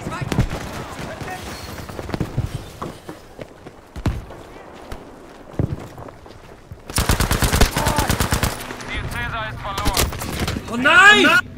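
Gunfire in the World War II shooter game Battlefield V: scattered single shots, then a loud sustained machine-gun burst and further bursts, mixed with footsteps and a player talking excitedly.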